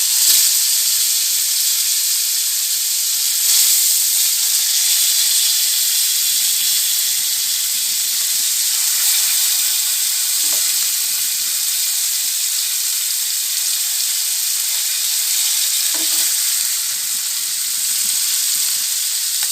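Fish frying in a pan for a pepper fish fry, a steady loud sizzle and hiss that holds for the whole stretch with a few faint clinks and no voices.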